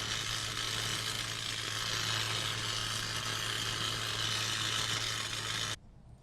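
Welding during the repair of a doomsday diner in a survival game: a loud, steady buzzing hiss with a low electrical hum runs unbroken for several seconds, then cuts off abruptly.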